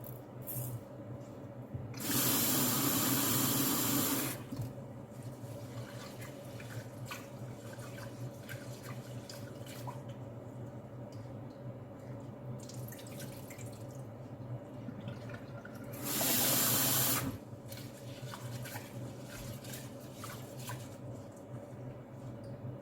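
Sink tap runs in two bursts while Thai rice is washed, a loud rush of water lasting a couple of seconds each time, with quiet dripping and handling between.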